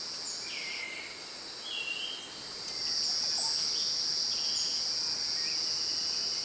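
Male insects call to attract females in a Costa Rican forest. They make a steady, high, shrill chorus of cricket-like trills, joined by a few faint chirps and sweeping calls, and the chorus grows slightly louder partway through.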